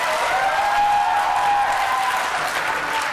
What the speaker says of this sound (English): Now, don't cheer during the debate.